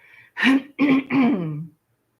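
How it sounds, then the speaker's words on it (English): Someone clears their throat close up, three gruff voiced rasps in quick succession, the last one drawn out a little longer. "I hate that I'm always clearing my throat."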